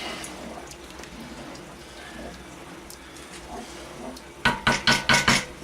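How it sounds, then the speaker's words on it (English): A spoon stirs chilli con carne in a cooking pot, giving about five rhythmic metallic clanks and scrapes close by in the last second or so, after a stretch of faint kitchen background. "Give it a stir"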